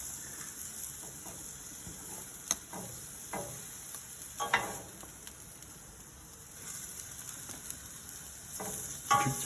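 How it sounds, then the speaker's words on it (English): Filet mignon steaks sear in a hot pan with a steady, quiet sizzle, broken by a few soft clinks and scrapes of handling. "See that sear now?"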